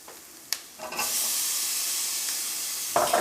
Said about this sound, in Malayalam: ഇനി നമുക്ക് ഇതിലേക്ക് തക്കാളി ചേർക്കാം.